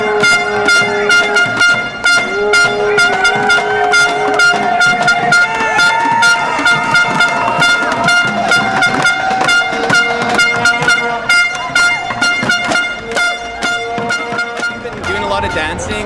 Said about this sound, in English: like people honking and things like that